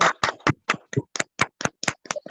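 Scattered individual claps from online meeting participants with open microphones, about a dozen distinct hand claps in an irregular rhythm, fairly close and moderately loud, no talking.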